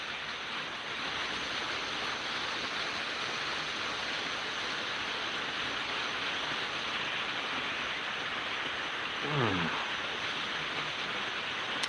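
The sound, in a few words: rain falling outside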